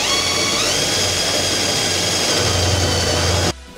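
A power drill drills out spot welds on a Toyota Supra body, running continuously with a steady high-pitched whine and grinding, close and loud, then cuts off abruptly near the end.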